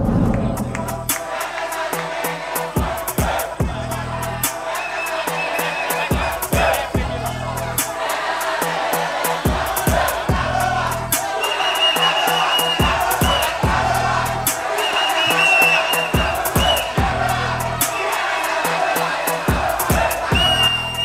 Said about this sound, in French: Est-ce qu'on peut applaudir Big Sed bien fort